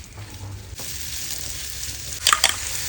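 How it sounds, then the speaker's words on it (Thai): Shellfish and mushrooms fry in hot oil in a wok, giving a steady close sizzle with a couple of louder crackling bursts near the end. "น้ำมันร้อนแล้วใส่หอยลงไป แล้วก็เห็ดนะคะ ลงไปทอดให้ร้อนก่อน"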